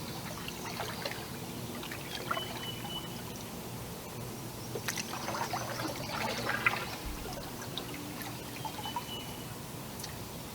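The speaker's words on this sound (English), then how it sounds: "And now I want to stop or slow down." A canoe paddle pulled through the water to slow the boat outdoors, heard as soft splashing and trickling with gentle swirls over steady background ambience, with no one speaking.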